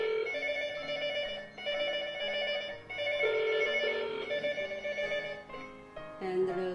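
A telephone on a GSM-to-IP telephone system rings with a steady, repeating electronic tone in short bursts, close and fairly loud, with no one talking.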